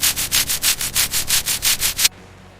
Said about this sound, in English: Brushing off the rust, bringing the floor back to life.